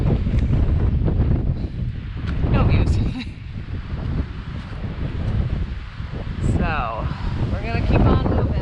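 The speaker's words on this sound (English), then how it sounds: "It's a little windy." Strong, steady wind buffets the microphone atop the wooded summit of Mount Field, a continuous loud rushing roar with gusty swells, while a person talks faintly underneath.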